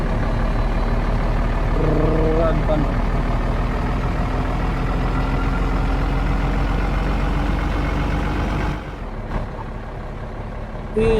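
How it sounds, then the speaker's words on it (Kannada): A heavy truck engine in a video game idles with a steady low rumble and drone, cutting off abruptly near the end before restarting. "ಲಾರಿ ಸೌಂಡ್ ನೋಡ್ರಿ ಅಂತ."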